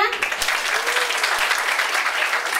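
A school assembly audience applauds during a student council election event, with steady clapping from a crowd and a few voices mixed in underneath.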